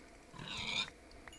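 A Minecraft pig gives a single short oink, faint and alone against a quiet background near snowy ice hills.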